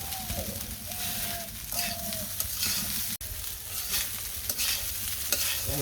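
Rice being fried with turmeric crackles in a pan, a continuous sizzle layered with repeated stirring scrapes and a low background hum, one brief dropout midway.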